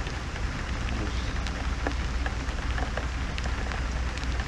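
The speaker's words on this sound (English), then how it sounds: "a little rainy out here, huh?" Rain patters steadily on and around a car on a wet roadside stop, a constant close hiss with scattered drips and taps, with no voices during it.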